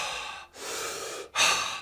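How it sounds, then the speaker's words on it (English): Continuous connected breathwork through the mouth: two long, loud breathy exhales or inhales separated by brief pauses, close to the microphone with no talking. "conscious connected breath work, which is kind of this continuous breathing process through the mouth"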